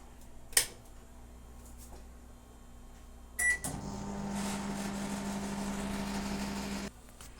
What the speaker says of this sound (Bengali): ভিন্ডি ভাজাটা মাইক্রোওভেনে ঢুকিয়ে দিই